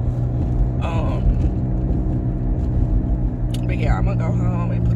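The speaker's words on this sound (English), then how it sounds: "you can hear some humming, y'all. That's I have a bad wheel bearing on my driver's side" A steady low hum from a bad driver's-side wheel bearing drones inside a moving car, with road rumble throughout and a voice speaking briefly over it.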